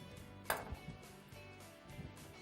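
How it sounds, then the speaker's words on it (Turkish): A kitchen knife slices down through an eggplant prepared for Turkish imam bayıldı: one crisp cut with a thud on the board, then faint softer taps, close and quiet. "Şöyle yukarıdan aşağı doğru bıçağınızla iniyorsunuz"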